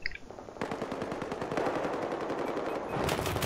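Rapid machine gun fire in the video game Battlefield 4, a dense, loud stream of shots that runs almost without a break through the whole stretch.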